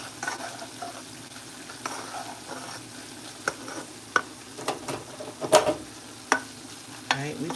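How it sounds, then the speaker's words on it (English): Noodles and Alfredo sauce are stirred in a pan for chicken Alfredo, with soft scraping strokes and sharp utensil taps over a gentle bubbling sizzle, close and fairly quiet, with no voices. "So I'm going to stir the noodles and the Alfredo."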